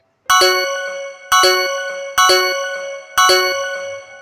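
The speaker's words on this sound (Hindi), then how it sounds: "उसका कॉल बजता है" A phone rings with four evenly spaced, bright electronic chime tones, each ringing out and decaying before the next, loud and clear with nothing else heard.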